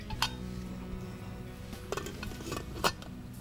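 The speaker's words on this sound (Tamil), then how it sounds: "சேர்த்துட்டு குக்கரை நம்ம மூடிட போகிறோம்." Pressure cooker lid clanking shut in a kitchen after water and milk go in, with a few sharp metallic clinks standing out over steady background hum.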